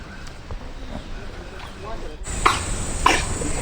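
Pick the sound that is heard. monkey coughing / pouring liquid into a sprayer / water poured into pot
monkey coughing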